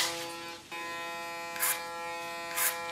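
Electric hair clippers cut short hair using the clipper-over-comb technique, a steady close electric buzz with two brief brighter bursts as the blades pass through hair.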